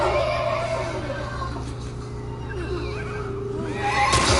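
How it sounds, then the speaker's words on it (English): A horse in The Last of Us Part II on PS5 lets out a brief neigh near the end, over a busy game soundscape with low hum and scattered effects. "Horse."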